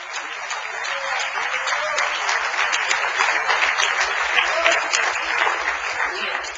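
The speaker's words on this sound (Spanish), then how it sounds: "Dale un aplauso al Rey bendito." Sustained applause from a church congregation at a worship service, steady and fairly loud throughout with no talk over it.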